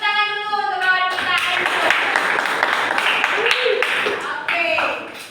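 Students clap briefly in a classroom for a classmate, with a short burst of hand claps mixed with voices and a teacher speaking before and after.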